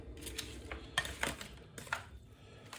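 Pepper X kebab sauce stirred in a bowl: quiet scattered clinks and scrapes of a utensil against the dish, irregular and close.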